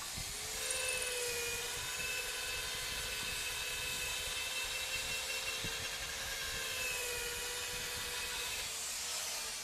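A power sander with 150-grit sandpaper runs as a steady, close, high whine with a constant drone and no pauses.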